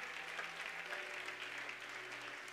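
An Easter Sunday church congregation applauds in a steady, continuous patter of many hands, fairly faint and distant, with no talking over it.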